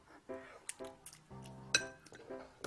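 A spoon clinks against glass bowls while stirring Haribo gummy pudding mixture in several short bursts, with a sharp ringing tap near the middle, while a voice talks quietly underneath.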